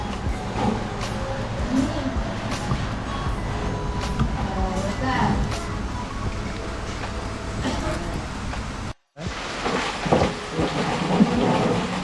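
Steady rain pours down outdoors in a Konkan village, a dense even hiss with scattered drips and thuds, while people talk nearby and a brief cut interrupts the sound.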